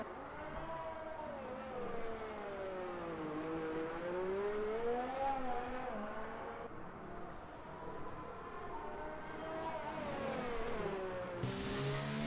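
McLaren Formula 1 car engine in the F1 2019 racing game on an out lap at the Singapore Grand Prix, a sustained high-pitched whine rising and falling steadily with gear changes, loud and continuous without talk.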